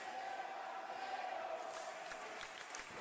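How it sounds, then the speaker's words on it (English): Distant, steady crowd noise from an Italian wrestling show audience cheering after a near-fall kickout, a continuous wash of voices with a few faint claps, somewhat quiet and roomy. "Listen to the crowd"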